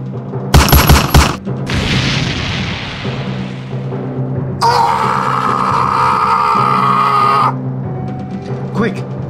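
Rapid gunfire sound effect in a Doctor Who action-figure scene, aimed at a console: a loud burst of shots early on, then a sustained noisy crackle and hum, with voices speaking around it.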